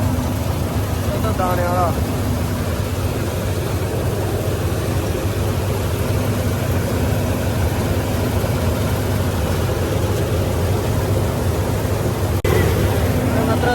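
A tractor idles on a farm during the paddy harvest, a steady low engine rumble running throughout with a person talking over it.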